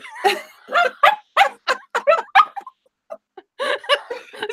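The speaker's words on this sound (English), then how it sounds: "And this is my beautiful puppy, Biscuit." A puppy makes a run of close, loud yips and whiny barking vocalizations in quick bursts, pausing briefly before another flurry; no one speaks over it.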